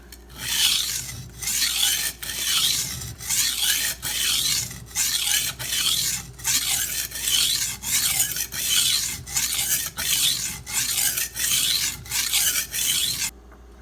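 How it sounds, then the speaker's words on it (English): A knife tip is ground on a sharpening stone to fix a chip and a rounded tip. Steady, rhythmic rasping strokes repeat about every second, close and fairly loud, with no talking. "I know I'm grinding that tip where I want it to be"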